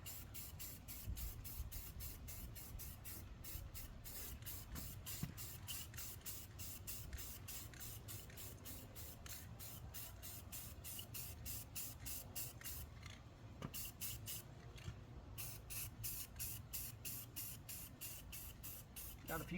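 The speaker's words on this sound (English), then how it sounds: "I'm really putting this paint on sooner than I should." A spray gun lays paint over welds during car rust repair, a steady hiss broken into rapid, regular pulses by the painting strokes, close and continuous for the whole stretch.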